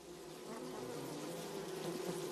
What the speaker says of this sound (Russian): В улье рабочие пчелы превращают нектар в мед.